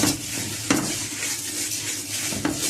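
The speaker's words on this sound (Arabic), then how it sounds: "هنقلب بس الشعريه كده لحد ما تحمر معانا كده" Vermicelli frying and being stirred in a pot while browning for Egyptian koshari, giving a soft steady sizzle with a few sharp scrapes and clinks of the spoon against the pot, close and alone with no talk.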